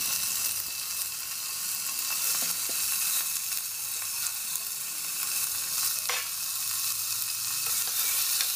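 Potato, tomato, onion and green peas sautéing in a little oil in a pressure cooker, a dense, even, close sizzle with occasional light stirring clicks and no voices.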